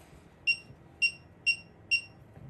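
A Schlage Home front deadbolt keypad gives four short, evenly spaced electronic beeps, clear and close over a quiet background with no speech.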